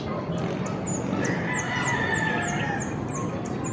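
A flock of birds calls during a morning feeding, with repeated high chirps and a crowing, clucking fowl sound over a steady outdoor background.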